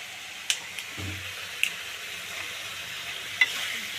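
Bay leaves and spice powder stirred into a frying pan of pigeon curry masala: a steady soft sizzle with a few sharp scrapes and clicks of the spoon against the pan, fairly quiet and close, no voices.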